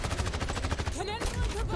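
Rapid automatic gunfire from a gun in the video game XDefiant, a fast steady burst of shots that rattles on loud and close, with a brief voice breaking in partway through.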